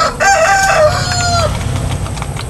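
Giant chickens crow and cluck loudly at feeding time, with a drawn-out crow over a steady low engine-like hum in the background.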